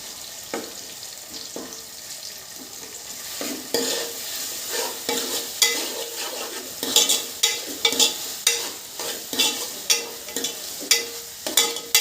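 Ginger garlic paste fries in oil for a village-style fish curry. A spoon scrapes and stirs in brisk, repeated strokes over a continuous close sizzle, and the strokes grow louder and more rhythmic toward the end.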